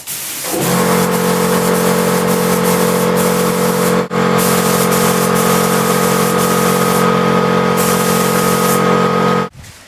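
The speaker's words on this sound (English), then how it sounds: "We've shot a bit of primer at it." Spray gun shooting primer onto the body of a BMC Wolseley Farina 24/80 under restoration, a loud steady hiss running almost unbroken for nearly ten seconds with a brief break partway through, no talking.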